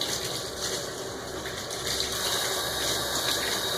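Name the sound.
bucket pressed down into water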